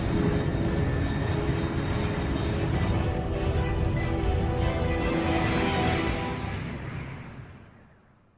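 A very fast aircraft at high altitude in the Metal Gear Solid Delta video game, a loud sustained roaring jet rush that holds steady, then fades away into the distance over the last couple of seconds.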